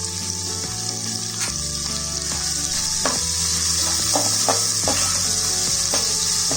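Sliced onions and cashews frying in oil with salt for Guntur chicken biryani, a loud close sizzle under repeated scraping and clinking of a spoon stirring the pan, with no talk.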